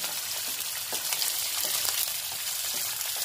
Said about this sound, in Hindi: बस ट्रांसपेरेंट होने तक ही हमको इसको भुनना है जिससे अदरक लहसुन मिर्च का कच्चापन चला जाए